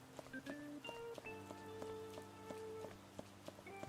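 Steady pattering rain in an outdoor area of the Persona video game, a soft continuous wash with light drops over faint tonal background music.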